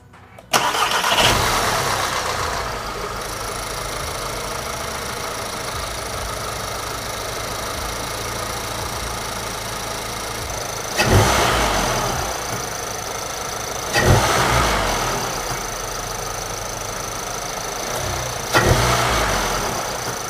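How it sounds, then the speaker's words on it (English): A Volkswagen MK7 GTI fitted with a cold air intake cranks and fires up close by, then settles into a steady idle with three short revs spaced through the idle. "I'm gonna go ahead and start up the car so you guys can hear it."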